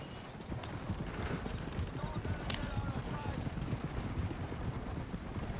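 Horse hooves clip-clop in a steady rhythm through a role-play video game, continuous and fairly close, with voices talking over them.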